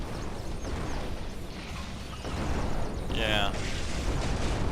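A bomb blast in Total Tank Simulator rumbles as a loud, sustained roar over steady battle noise, swelling partway through, with a brief spoken word on top.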